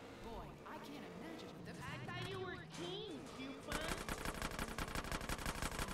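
Rapid automatic gunfire in GTA San Andreas bursts in partway through, a dense rattling volley over game music and voices that fills the last couple of seconds.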